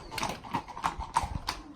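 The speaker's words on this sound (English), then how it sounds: "brings people up the hill on horses for a fee" Horses carry riders up a hill on the Camino de Santiago near Molinaseca, their hooves clip-clopping in an irregular walking rhythm at moderate distance over faint background noise.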